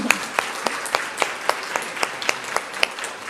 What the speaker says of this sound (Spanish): le demos un gran aplauso a Indira